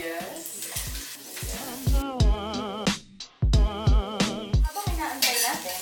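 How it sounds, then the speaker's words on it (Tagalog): Garlic and onion sauté in hot oil in a pan, a steady sizzle broken by scraping stirs and clinks of utensil on metal, with other tonal sounds layered over the frying. "So, igigisa natin ang bawang,"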